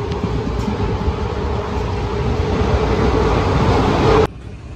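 A train on the Thane to Ratnagiri route pulls into a station, giving a steady, fairly loud low rumble and mechanical hum that stops abruptly near the end.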